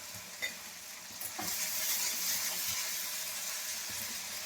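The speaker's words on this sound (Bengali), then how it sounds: "তার মধ্যে আমি হলুদ দেবো, দিয়ে আমি ভালো করে এটা কষে নেব" Cumin powder and turmeric stir-fried in a pan for an egg curry (dimer kosha), a steady close sizzle with occasional spatula scrapes, no talking.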